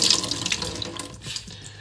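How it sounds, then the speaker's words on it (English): Water drips and splashes at a kitchen sink as grated potatoes wrapped in a cloth are squeezed out, a steady close trickle that fades slightly toward the end, with no talking. "Take it over to the sink. You just squeeze out the water."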